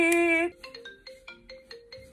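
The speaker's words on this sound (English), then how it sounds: "Calling Chloe" A phone call rings out after a brief voiced tone at the start, giving a series of short repeating electronic beeps in a steady rhythm, clear and close with nothing else over them.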